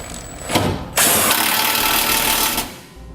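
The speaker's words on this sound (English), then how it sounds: "we're going to come back to that 21mm socket and tighten up those 2 factory bolts" A power tool running on a 21mm socket to tighten two factory bolts while a Curt trailer hitch receiver is installed, a short whir, then a louder sustained whine of about two seconds that stops abruptly.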